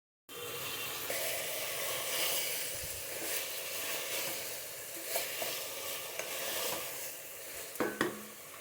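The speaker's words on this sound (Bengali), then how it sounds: "ভাজা ভাজা হোক।" Chopped vegetables, including cauliflower and long beans, fry in a pot for chicken khichuri. A moderate, continuous sizzle and hiss is broken by a few light clinks near the end, and no one talks.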